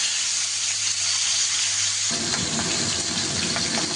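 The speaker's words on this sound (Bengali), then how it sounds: "মাথাটাকে এপিট ওপিট করে একটু ভালো করে ভেজে নেব।" Hilsa fish head sizzles and spits in hot oil in a pan, a close, steady frying hiss that swells louder and fuller halfway through, with no talking.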